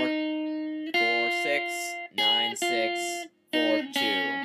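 A fast riff from a song rings out as a quick series of clear plucked notes, played close in short bursts separated by brief gaps.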